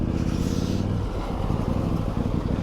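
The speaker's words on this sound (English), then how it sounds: "Look at that wonderful garbage truck." A garbage truck drives past on Morgo Street in the seaside town of Urunga, NSW, its engine a loud, steady, close rumble with broad road noise that holds throughout.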